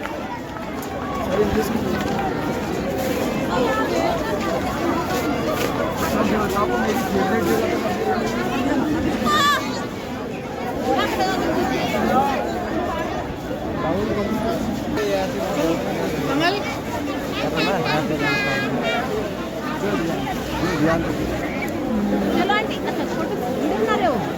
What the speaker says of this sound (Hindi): बहुत ही ज़्यादा रश है यहाँ